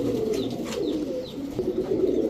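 Giribaj pigeons cooing close by, soft low throaty coos repeating in a loose rhythm, with faint chirps above.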